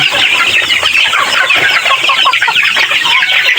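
Chickens cluck and chatter busily in a dense, continuous flock, close and loud, with a rooster among the hens.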